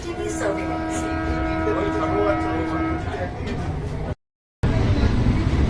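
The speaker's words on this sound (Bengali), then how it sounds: "বিধাননগরে ঢুকে গেছে ট্রেন আপনারা দেখতে পাচ্ছেন" Steady rumble of a moving air-conditioned local train near Bidhannagar station, with a constant mechanical hum and rattling, briefly cut out near the end before resuming.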